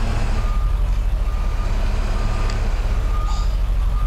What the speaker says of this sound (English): This bus sounds like a real old bus, Drew.